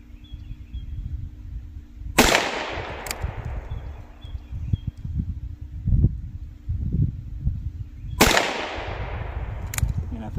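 A Ruger Wrangler sheriff's model revolver with a 3.75-inch barrel fires outdoors. Two loud, sharp reports land several seconds apart, each with a quick fainter crack after it, over a low steady hum and faint rustling.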